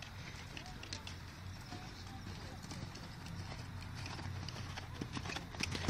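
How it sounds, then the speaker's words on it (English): A horse canters in a riding session, its rhythmic hoofbeats thudding steadily and fairly close under background noise, with a voice speaking over the hoofbeats. "Right, do another canter."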